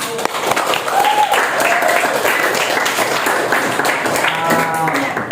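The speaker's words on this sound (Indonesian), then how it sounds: "Ibu mau beri aplaus untuk kita semua." Classroom applause from students in a lesson, steady dense clapping throughout with a few voices calling out over it, fairly close and loud.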